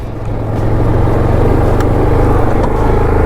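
The engine of a 2020 Yamaha Kodiak 450 EPS SE ATV runs steadily under load on a test ride, close and loud, with a constant droning hum and faint rattles. No one talks.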